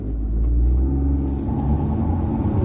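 A Mahindra XUV 3XO TGDi SUV launches at full throttle in manual mode, its engine a loud, steady low rumble and growl that rises slightly as it accelerates, heard from inside the cabin with no talking.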